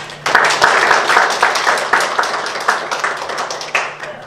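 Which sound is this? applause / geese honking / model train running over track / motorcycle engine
applause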